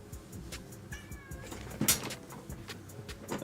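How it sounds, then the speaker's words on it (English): Pet cat giving a thin, drawn-out meow indoors over a steady background hum, followed by a brief louder sound, fairly faint and without any talking. "my cats are funny. They come in here and then they leave and then they come back."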